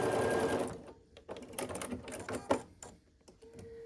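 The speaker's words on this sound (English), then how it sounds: "And then we just sew these." A sewing machine stitches quilt block pieces in steady rapid bursts, whirring and clattering close up with short pauses between runs.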